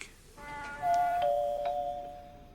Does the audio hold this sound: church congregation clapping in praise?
no